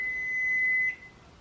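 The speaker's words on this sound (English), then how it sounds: "I hate the sound of that beep." A single sustained electronic beep rings at steady pitch for about a second, thin and fairly quiet over a faint background hum, then stops.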